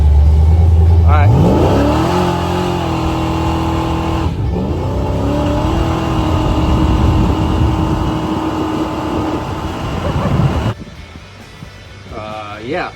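A big block Chevrolet Caprice roars through a burnout, its engine revving hard and climbing in pitch, holding high, then cutting off abruptly near the end, followed by quieter revs.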